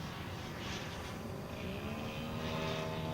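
A 40% scale Jungmeister aerobatic model biplane's engine drones steadily and fairly far off, a continuous buzzing hum whose pitch shifts gently as the throttle changes, with no voices.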